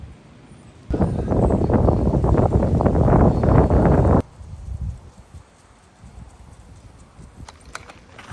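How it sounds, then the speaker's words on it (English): Horse hooves clip-clop loudly in a quick rhythmic patter from a group of horses for a few seconds, then fade to faint outdoor ambience with occasional light steps. "I found a group of horses"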